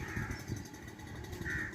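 A crow gives a couple of harsh caws near peacock chicks, the calls fairly close and separated by a short gap, with faint ambient noise behind.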